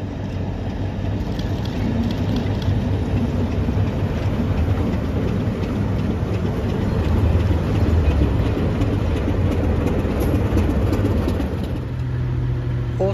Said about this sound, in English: The star of the gala was the Class 60 in on hire from DC Rail